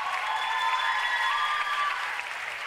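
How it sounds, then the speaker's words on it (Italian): A studio audience at a talent show applauds, continuous clapping at an even level, with a musical tone or held note sounding through it and fading toward the end. "E un grande applauso per lui."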